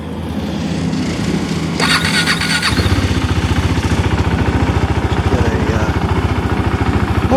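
A 2017 KTM 390 Duke motorcycle is cranked and starts, the starter whirring briefly before the single-cylinder engine catches and settles into a fast, even idle pulse close to the microphone.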